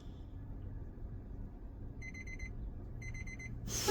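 A digital timer alarm beeps in two short bursts of rapid, high electronic pulses, sounding over a low engine-like rumble inside a truck cab during a brake and in-cab inspection, with a louder clunk at the end.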